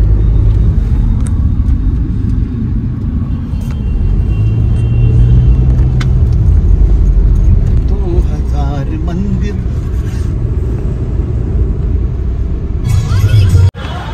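A car is driven and parked at Shirdi, giving a steady low engine rumble throughout with a few faint knocks and a sharp thump near the end. Voices are faintly present.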